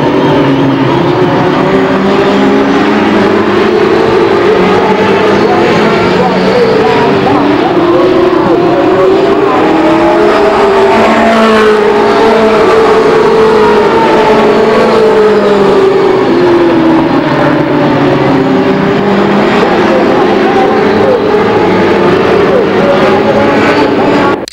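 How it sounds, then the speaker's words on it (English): Race cars pounding around the Lake Geneva Raceway oval in 1993, a continuous loud wash of engine roar with pitch sweeping up and down as the pack passes, distant and crowded. "Tony Benz in car number 27 is challenging number 50, Bobby Gears, for the lead."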